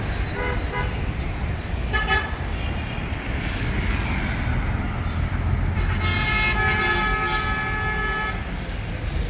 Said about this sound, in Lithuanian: Ir kada reikia stipriau pypsinti ir avarinį jungti.